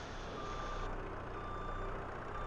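Steady electronic reversing beeps from a telehandler backing up in a farming video game, repeating evenly over a continuous engine drone.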